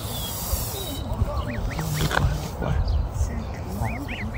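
A family of ducks outdoors in Edmonton, Canada, gives off scattered nasal quacks and calls against steady outdoor background noise, with people talking over them.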